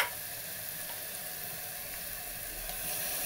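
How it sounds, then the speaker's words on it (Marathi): Ghol greens added to hot oil with chillies in a pan, a loud, continuous, close hiss of sizzling that holds steady and swells slightly at the end. "आता आपण ही भाजी टाकून घेऊ यामध्ये."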